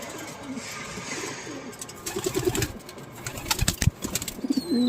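Pigeons coo softly in a breeding loft, with repeated short throaty calls rising toward the end, accompanied by light rustling and a few wing flaps, fairly close and without speech.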